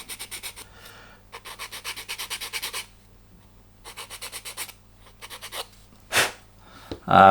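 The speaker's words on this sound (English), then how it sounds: "we can just sand a little angle on" A small wooden part for a Vanguard Models HM Sherbourne ship model is sanded to a slight angle, heard as several bursts of close, rhythmic rasping strokes separated by short pauses.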